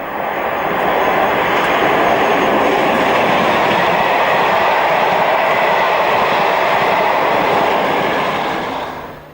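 Class 45 Peak diesel locomotive 45107 passing on quadruple track, a loud sustained rumbling roar that rises quickly, holds steady for several seconds with faint rail clatter, then begins to fade at the end.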